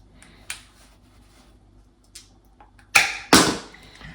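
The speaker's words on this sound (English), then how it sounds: "test cut first with these snips" Snips making a test cut on a shower door seal, two loud, close, sharp snapping cuts in quick succession after a few faint earlier clicks and handling taps.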